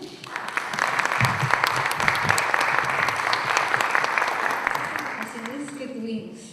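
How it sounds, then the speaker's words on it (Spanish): An audience at a parents' school talk on adolescence applauds in welcome, a loud, dense wash of clapping that builds and holds, then thins out, with a voice emerging near the end. "Vamos entonces a recibirla también con un aplauso."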